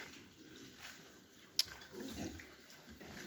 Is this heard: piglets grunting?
yes